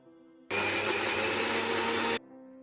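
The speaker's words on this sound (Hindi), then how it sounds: "और अब इन सारी चीजों को हमें मिक्सर जार में निकाल कर इन्हें ग्राइंड कर लेना है।" Electric mixer grinder blending garlic, dried red chillies, ginger, cardamom, cloves and mace into a gravy masala: a loud, dense whirring roar that starts abruptly, runs for under two seconds and then cuts off.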